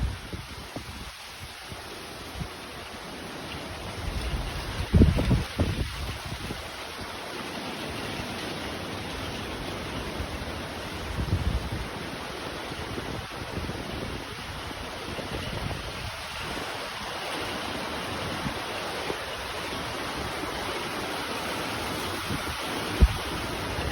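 Heavy summer rain pours down steadily in strong wind, a dense unbroken hiss with a few louder gusts and thuds, no speech heard.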